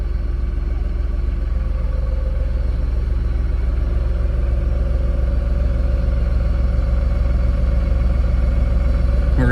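A vehicle engine pulls a hay wagon ride, running at a steady low rumble that sounds close and constant for nearly ten seconds, a continuous idling drone with no talking.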